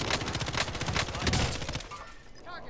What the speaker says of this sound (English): Some pretty poor shooting there